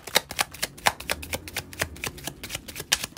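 Tarot cards riffle and snap close up in a quick, steady run of crisp flicks and slaps as the deck is shuffled and cards are drawn.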